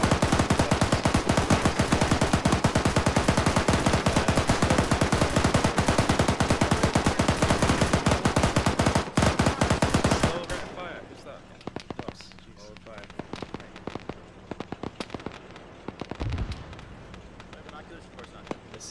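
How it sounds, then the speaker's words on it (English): Sustained gunfire and machine gun bursts in the military shooter Arma 3, dense rapid cracks for about ten seconds, then scattered distant shots with radio-style voices talking over them. "we're taking heavy shot. Heavy shots from southwest."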